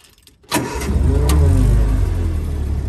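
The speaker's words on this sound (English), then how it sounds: "Right, let's fire this Jeep up and show you what the engine runs like when it's stationary." Replica WW2 jeep with a Ford engine, warm and in neutral, cranks briefly and then catches, settling into a loud, steady rumbling idle close by with no talking.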